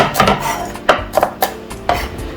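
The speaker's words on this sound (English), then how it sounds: "I'm going to cut it enough like that, and then just cut it in little chunks like that" A knife chops an onion into small chunks on a board, giving a quick series of sharp, close thuds and clicks in an uneven rhythm, with no talking.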